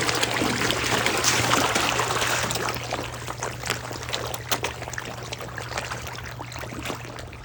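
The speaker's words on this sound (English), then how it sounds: "I will change the water." Water is poured steadily into a catfish pond during a water change, a loud continuous gush that thins to a splashing, uneven trickle toward the end, with a low steady hum underneath.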